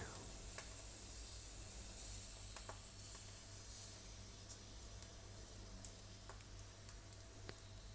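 Chopped medium-size onion frying in oil in a pan for mutton khurma makes a faint, steady sizzle with occasional soft clicks and crackles, heard alone.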